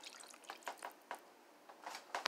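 A cup of water is poured into a bowl of cake mix, making faint, close trickles and scattered splashing drips in a loose, uneven pattern with no talk.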